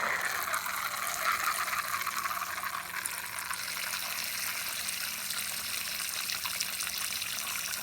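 Water trickling steadily into a Brazilian giant white knee tarantula's water dish, a soft, continuous close pour with no voices.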